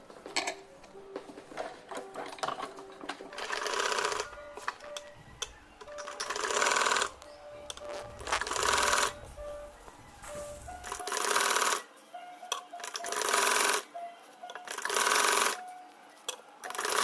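Electric sewing machine running a seam along folded kurti fabric, with several bursts of steady rapid stitching separated by short pauses, close and moderately loud, with no talk.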